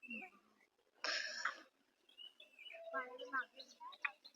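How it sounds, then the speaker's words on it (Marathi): Birds chirp and call faintly near an old village lake in quiet countryside, scattered tweets with a brief louder burst of noise and a soft voice near the start. "फक्त पक्ष्यांचा आवाज येतोय."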